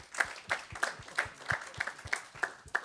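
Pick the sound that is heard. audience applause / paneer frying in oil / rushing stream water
audience applause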